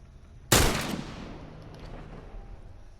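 A single loud gunshot rings out in The Last of Us Remastered, a sharp close blast followed by a long decaying echo, with no talking.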